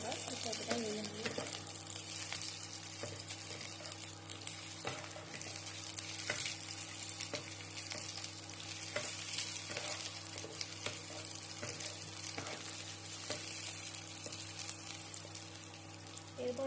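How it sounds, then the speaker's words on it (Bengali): Capsicum sizzles steadily in a pan while being stirred, with scraping strokes sounding throughout over a constant frying hiss and a faint hum underneath. "ক্যাপসিকামটা হালকা ভেজে নেব, এর কাঁচা গন্ধটা চলে যাওয়ার জন্য যতটা ভাজা দরকার ততটা ভেজে নেব"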